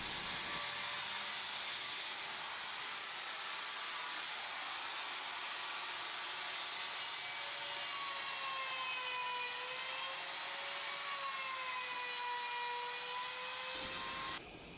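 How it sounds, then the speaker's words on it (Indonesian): An electric trimmer routing off the edges of HPL laminate on a wardrobe panel for a sliding walk-in closet, a loud, continuous high-pitched whine with a shifting pitch that carries through steadily. "Dan yang terakhir itu tinggal dirapiin aja dengan trimmer seperti ini"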